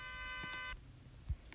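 A phone in the Roblox game Brookhaven dials out with a steady electronic tone that cuts off abruptly, followed by a faint low thump.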